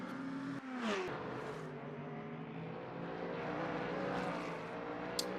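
Race car in a Le Mans endurance sim race, lifting off through a chicane and then back on the throttle, the engine note sweeping upward with a brief whoosh, loud and continuous.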